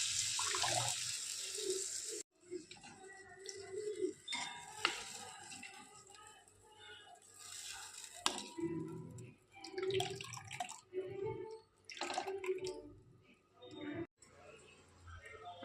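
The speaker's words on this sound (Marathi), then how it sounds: "तर यामध्ये टाकू पाणी." Water is poured into a cooking pan while making egg curry at home, a splashing, trickling stream that starts and stops in bursts, heard under ongoing talk in a kitchen.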